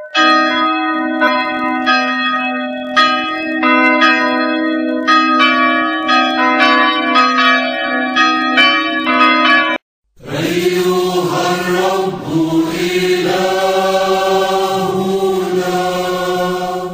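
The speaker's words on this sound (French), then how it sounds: "Les fidèles sonnaient des cloches de cuivre pour appeler à la prière et à la sainte messe" Copper church bells ring out to call the faithful to prayer and holy mass, struck in a bright, overlapping rhythmic pattern. After a brief silent gap, a deeper, denser peal continues, loud and close, with no speech.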